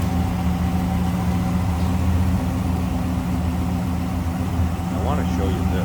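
A 1957 Pontiac Star Chief Catalina V8 idles steadily with a smooth, low hum, running continuously and close by with no talk over it.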